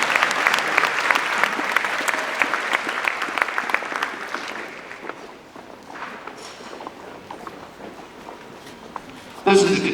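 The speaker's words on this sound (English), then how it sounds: "Give him another round of applause." An audience at a high school winter concert gives a round of applause, dense clapping at first that thins and tapers off, with a louder burst of noise at the very end.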